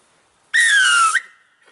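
A single whistle blast, about two-thirds of a second long, with a breathy, slightly lowered pitch from covering the sides, loud and close, then a short fading tail.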